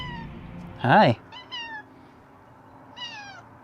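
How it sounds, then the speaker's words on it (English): A cat on an old Route 66 ghost-town stop gives one loud drawn-out meow followed by shorter softer mews, close by, with a person speaking briefly. "Pretty smart cat."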